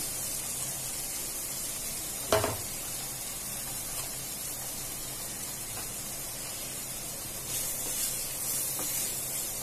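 Onions frying in a pan for egg fried rice, a steady close hissing sizzle with one sharp clatter early on and a few soft stirring scrapes, no voices.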